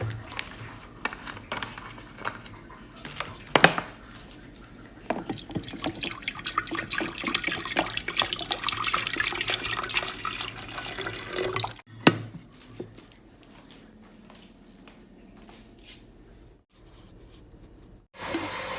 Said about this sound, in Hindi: केटल में पानी डाल लूँ।